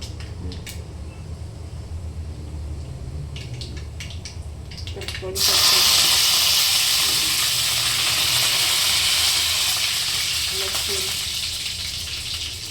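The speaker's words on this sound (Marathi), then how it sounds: "मोहरी बघा तर आपलं तेल पण तापून झालेलं आहे छान तर बघा आवाज आला ना" Mustard seeds dropped into hot oil for a red pumpkin bhaji: after a quieter start, a sudden loud, close hiss of spluttering erupts and carries on steadily, with a voice speaking briefly.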